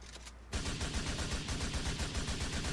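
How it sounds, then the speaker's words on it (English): Rapid automatic gunfire in the video game GTA IV, a dense, loud, steady burst of repeated shots that starts abruptly after a brief quiet moment and keeps going. "Suppressing fire right now."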